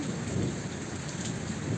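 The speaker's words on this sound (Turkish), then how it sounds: "Şu an bir yandan yağmur yağıyor." Steady rain falling in a village, a dense hissing patter with a low rumble underneath, continuous and fairly close.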